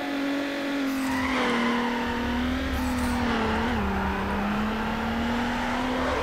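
A V6 car engine in the racing game Need for Speed Underground, a steady high droning rev held near one pitch with slight dips, loud and continuous with faint tire noise beneath.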